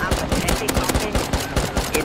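Rapid gunfire in the video game Rust, aimed at a helicopter, crackles in fast bursts of sharp repeated shots with dense noisy game sound behind.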